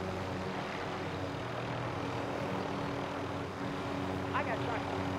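A propeller aircraft droning overhead in the video game Call of Duty: Modern Warfare, a steady, continuous engine hum that stays at an even, fairly loud level, with a brief voice sound near the end.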